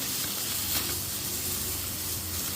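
Chili powder and masala frying in hot oil for a prawn gravy, a steady loud sizzle and hiss that carries on unbroken with no talking.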